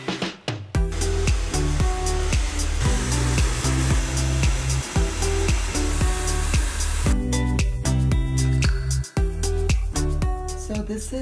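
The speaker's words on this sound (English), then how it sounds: "blow dry as normal" A handheld hair dryer blows hair dry in a steady, loud whoosh for most of the clip, then cuts off near the end while upbeat music keeps playing over it.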